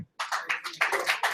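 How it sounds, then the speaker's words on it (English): Applause for a team captain on stage at a football cup draw, a small group clapping in uneven bursts after a short silence, close and moderately loud. "Give her a round of applause."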